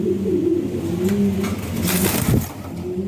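A male lavender Lahori pigeon coos close by in repeated low, throaty rolling phrases, with a soft rustle and a brief bump near the end.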